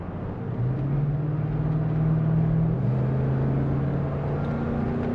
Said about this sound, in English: That V8 rumble comes up into the truck in a sedate way.